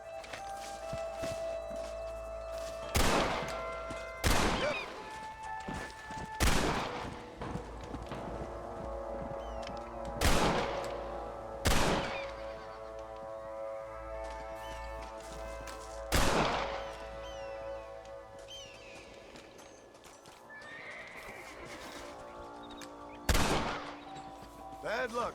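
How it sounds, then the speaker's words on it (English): Gunshots in a Red Dead Redemption shooting contest, about nine sharp, loud reports spaced irregularly a few seconds apart over a low ambient background with faint clip-clop sounds. "I bet you can't beat Ira Shelton in shooting."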